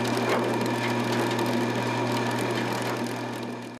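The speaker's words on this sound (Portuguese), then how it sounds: "Após a limpeza, ele é triturado com uma raspadeira." Raspadeira crushing machine shredding washed produce in a small colonial poultry-feed processing setup, a steady droning mechanical whir with a constant motor hum and dense grinding rattle, continuous and loud throughout.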